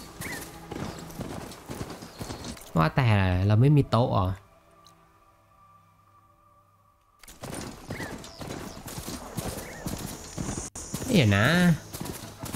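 Hoofbeats of a machine mount being ridden in Horizon Forbidden West, steady clip-clop running through most of the stretch with a quiet gap in the middle, heard under someone talking.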